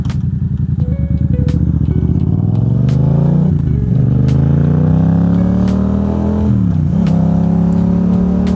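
A Yamaha MT-07 motorcycle engine rides through city streets, loud and close, with rising revs through each gear and two clear dips as the rider shifts, then pulls away again steadily.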